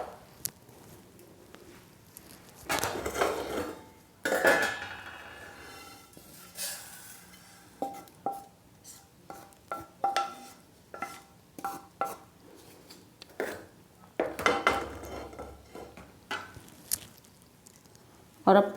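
Roasted puffed sesame seeds are scraped from a pan onto a plate with a spoon, giving quiet irregular scraping, clinking and rustling taps, with someone talking in between.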